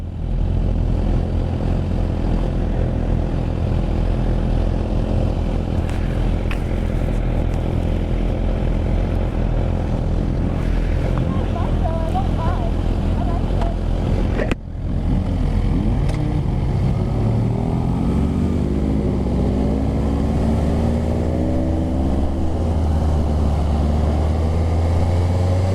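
A 2024 Suzuki GSX-R1000R sportbike engine drones loudly and steadily at speed on a test ride. Halfway through, a sharp shift breaks the sound, then the revs climb in smooth rising sweeps under wind roar.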